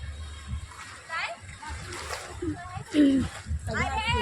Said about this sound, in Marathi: बघा लाटा कशा